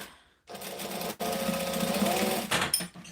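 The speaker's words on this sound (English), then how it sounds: "I just get to the last little bit, hold it as a 3D object, and then sew around" A sewing machine stitches around a small 3D denim Mini Denver bag, running in a steady close buzzing burst of about two seconds with a brief hitch, then a short final run.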